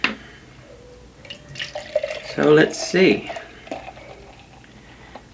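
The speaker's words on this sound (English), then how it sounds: "She is jet black coming out of the can. Hard pour." A can of D.O.R.I.S. the Destroyer double imperial stout is opened and hard-poured into a glass, giving close, splashy gurgling bursts of liquid, with someone talking briefly.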